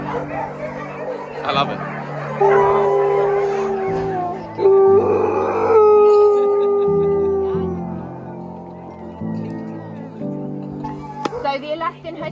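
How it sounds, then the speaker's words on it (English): Alaskan husky sled dogs at a kennel in Tromsø howl together in long, sustained, rising chorus tones that fill the yard, with people chatting and exclaiming over them. "Now the entire place is howling."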